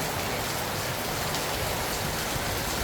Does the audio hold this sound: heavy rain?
yes